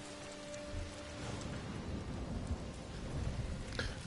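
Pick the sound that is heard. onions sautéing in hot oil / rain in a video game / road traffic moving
rain in a video game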